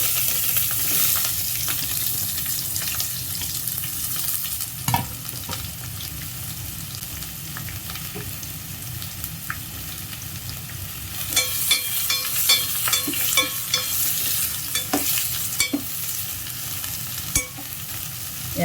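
Onions, green chillies and curry leaves frying in hot oil for an egg curry, a steady sizzle under repeated scraping and stirring of a spoon in the pan, growing busier with sharper clinks in the second half.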